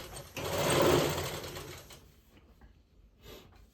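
Sewing machine stitching a godhadi quilt from the reverse side, a short close whirring burst of needle strokes that fades out, followed by quiet with a faint click.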